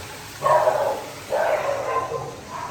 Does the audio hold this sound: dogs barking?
yes